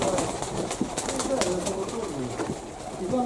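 Domestic pigeons, a flock of mostly white birds, cooing repeatedly in soft rolling phrases close by, with scattered rustles and occasional quiet talk mixed in.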